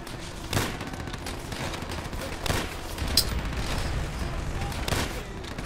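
Gunfire in the video game Call of Duty: World at War, with several separate sharp shots spaced a second or two apart over a low, busy battlefield background, moderately quiet overall.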